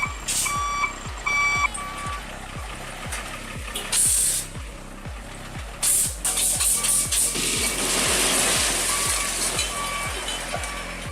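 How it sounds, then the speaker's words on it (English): Heavy truck reversing, with a steady train of regular backup beeps pulsing throughout under a rumbling engine and hissing air-brake bursts, close and fairly loud. "Backing a heavy truck toward a wooden house becomes a nerve-shredding moment"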